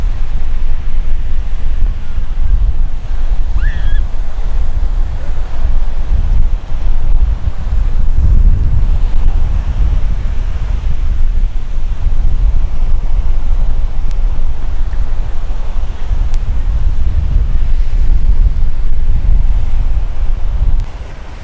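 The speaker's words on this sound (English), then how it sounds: "At the beach." Wind and surf at Impressive Punta Cana Beach Resort in the Dominican Republic make a loud, steady roar. Wind buffets the microphone heavily throughout, with the wash of waves underneath and no pause.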